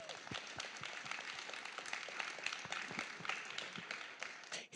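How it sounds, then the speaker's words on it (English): Audience applause for a summit panel, a dense wash of many hands clapping steadily for several seconds before cutting off at the end, moderately loud throughout. "So big round of applause for our incredible panelists."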